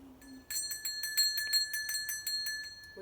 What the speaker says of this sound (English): We got the old bell back.